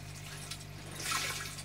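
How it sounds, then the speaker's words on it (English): Water bubbling and splashing in an aquaponics clarifier that abruptly redirects the flow before it dumps back into a reservoir, a short continuous burble heard close up. "that going into a clarifier which changes the direction of the water rapidly, which you can hear bubbling away"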